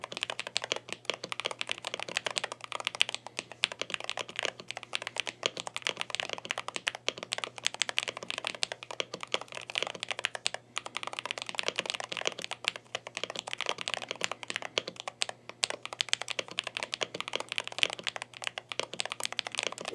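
Steady, fast typing on a Falchion Ace HFX keyboard with crisp, clicky keystrokes in a continuous rhythm, close up and on its own.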